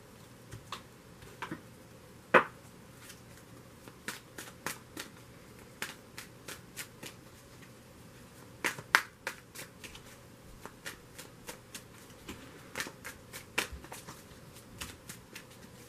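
A tarot card deck is shuffled close up, giving soft, irregular riffling and slapping card sounds with a few sharper snaps, scattered over a quiet background with no talk.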